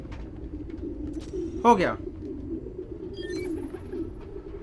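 Recorded pigeon cooing playing from a device in a city park scene in the video game Spider-Man: Miles Morales, a brief warbling coo mid-clip over a steady ambient hum, with a short spoken remark nearby.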